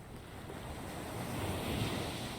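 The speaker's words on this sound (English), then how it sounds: "I heard the sound of the wind and the sound of the waves." Wind and ocean waves in the visual novel Aoi Shiro make a steady broadband wash of surf and gusts, swelling slightly louder toward the end, with no speech.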